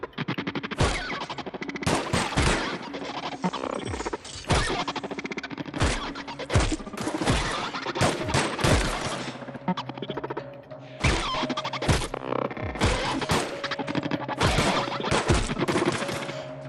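Gunfire in The Outer Worlds video game: loud, sharp volleys of shots and rapid bursts repeat in irregular clusters, with brief gaps between exchanges and no talking.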